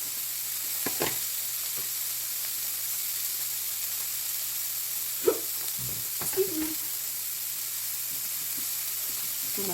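Precooked burger patties warming in a pan turned down low, giving a faint steady sizzle with a few soft clinks and scrapes scattered through it.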